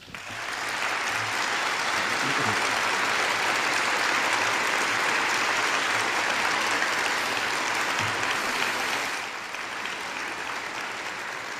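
Sustained audience applause at a debate, a dense steady roar of clapping from a large crowd that continues for several seconds, then eases off.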